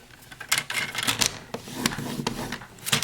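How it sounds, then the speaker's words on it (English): A paper trimmer scores cardstock in a few short, scraping passes with light clicks and rubs, close and dry, with brief pauses between strokes. "We're going to bring in my trimmer, and we are going to score it at 1/4 inch"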